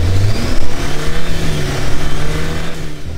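A 2018+ Jeep Wrangler JL 2.0L engine runs loud on a dyno, holding a steady drone with slight rises in revs through the whole short stretch, alone with no voices.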